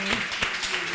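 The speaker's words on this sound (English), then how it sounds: "So, a very, very warm applause." Audience applause after a talk: a short, dense burst of hand claps sounds close and steady beneath a speaking voice.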